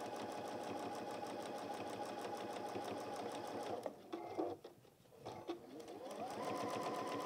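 A sewing machine stitches fabric pieces for a toy goose, running in a steady fast hum, pausing briefly near the middle, then starting up again at full speed.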